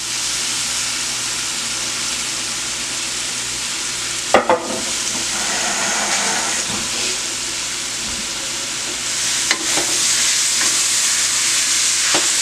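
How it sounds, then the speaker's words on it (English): Saltfish stirred into a sizzling stew in a pan that tends to stick, giving a steady frying hiss with a few brief scraping clatters of the spoon against the pan. "Stir the saltfish in."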